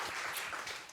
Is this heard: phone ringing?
no